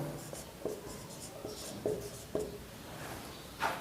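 Chalk or marker strokes on a board during a Class 9 mathematics lesson on lines and angles, a series of short scratchy taps and strokes, fairly faint in a quiet room.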